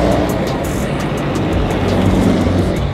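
A lowered car rolls into a busy car meet in Rio de Janeiro, a steady loud low engine rumble over dense crowd and ambient noise, close and continuous throughout.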